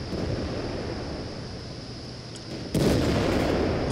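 A tank gun fires in World of Tanks: a single abrupt blast near the end breaks a steady windy rumble, loud and alone with no talk.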